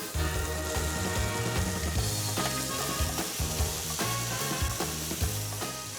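Burger patties for a Big Kahuna cheeseburger sizzle steadily in a hot pan, a loud, dense crackle of frying fat running unbroken throughout with no talking.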